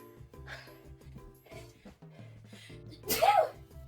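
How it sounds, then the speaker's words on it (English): A single sharp sneeze bursts out near the end, close and fairly loud, after quiet room noise with faint humming tones. "I left the kitchen to sneeze."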